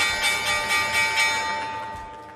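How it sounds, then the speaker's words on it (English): Stock market opening bell ringing in a quick run of about five bright metallic strikes, then a fading ring that trails off. "That was the opening bell."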